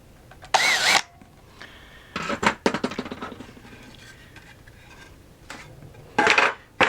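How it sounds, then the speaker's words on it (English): A power drill whirs in short, loud bursts close by while marking a cross member during a pulk sled conversion to a Smitty sleigh, with quiet pauses between runs. "I'm going to give it a little bit of a mark with my drill"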